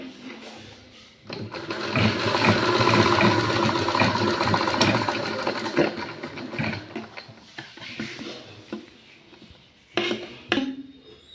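A sewing machine stitches along folded piping fabric in a sustained mechanical whir lasting several seconds, close and fairly loud, then slows and stops with a few short clicks and bursts.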